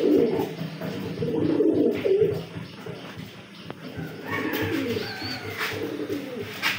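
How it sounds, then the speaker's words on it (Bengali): Two pigeons perched close by coo in low, rolling bursts through the first couple of seconds. Quieter cooing and a person talking follow against a steady outdoor background. "দুটা কবুতর আমার এখানে বসে দিচ্ছে।"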